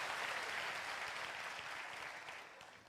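Classroom audience applause during a Hindi lecture, a thick, continuous clatter of many clapping hands that gradually fades toward the end.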